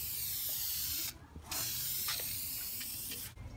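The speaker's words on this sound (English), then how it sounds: "just spray paint it with fabric paint" Spray paint being applied to a go-kart seat in fabric paint, a steady close hissing spray with a few brief pauses and short bursts.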